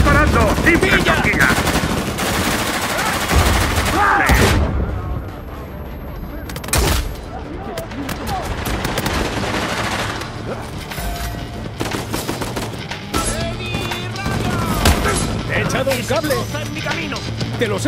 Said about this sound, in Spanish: ¡Seguid disparando!